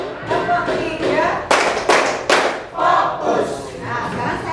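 A school class clapping in a counted clap routine, with bursts of hand claps in groups and sharp sets of claps in the middle, mixed with voices of children and a teacher calling the count.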